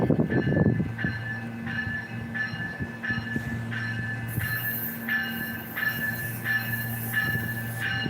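A commuter train arriving at Union Station, its steady rumble joined by regularly spaced clickety-clack wheel beats and a high squeal toward the end, loud and close.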